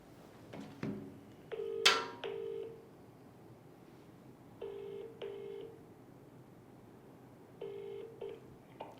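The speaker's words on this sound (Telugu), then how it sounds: "ఒకసారి ఎవరైనా ఎంపీకి ఫోన్ చేద్దాం." A telephone call to a member of parliament is dialed during a live broadcast: short bursts of keypad tones in clusters, a sharp ping-like tone early on, then further spaced dialing beeps, fairly quiet overall.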